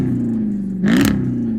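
A 2006 Dodge Charger SRT8 with a modified exhaust idles with a deep steady burble, then a single short throttle blip rises and falls back to idle, loud and close.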